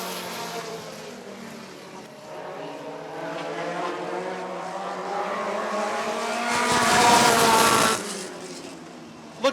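Midget race cars roar around Rockford Speedway in a feature race, the engines droning steadily at a distance and then swelling louder as the pack sweeps past nearby before fading again.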